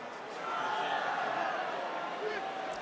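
Rugby stadium crowd at a French Top 14 match between Stade Francais and Bayonne, a steady broad murmur and roar of many voices, moderately loud and continuous, with a commentator talking over it.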